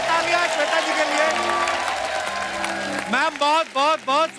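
An audience claps loudly to welcome an indie pop singer onto a television comedy stage. Steady applause runs under music, and voice-like melodic sounds rise over it near the end.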